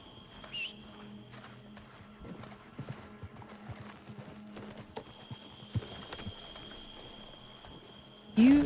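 Horse hooves clip-clopping at a steady walking pace in a Red Dead western roleplay video game, faint and fairly close, with a sharp loud horse snort or whinny at the end.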